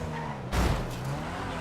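Karin Everon RS, an all-wheel-drive car in GTA 5, understeering with a sudden loud burst of engine roar and tire scrub partway through, then a steady engine drone continuing.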